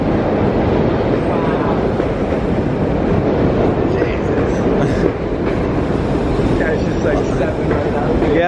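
A Buenos Aires subway train rolls steadily through the frame, producing a dense, continuous clatter and rumble of wheels on rail, loud and close throughout. Excited voices talk faintly beneath the noise.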